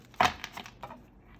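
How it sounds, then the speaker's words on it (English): A Dreamy Moons tarot card deck being shuffled, giving one sharp close riffle burst followed by a few softer card flicks and taps, heard alone. "Some people really like to shuffle this way."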